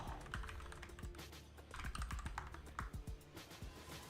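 Rapid clattering keystrokes on a computer keyboard, quiet and close, in uneven bursts with short pauses, no talking.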